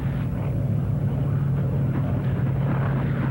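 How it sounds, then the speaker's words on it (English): Heavy WWII Stirling bombers flying low make a steady, loud, droning engine roar that fills the air throughout, with an unbroken low hum and no pauses. "we heard the engines of heavy aircraft"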